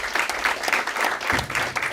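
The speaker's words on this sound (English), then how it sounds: "So let's give them a round of applause." Applause from an audience at an HBCU sports symposium, a dense and steady wash of many hands clapping that stays loud and fairly close for the whole stretch, with no voices over it.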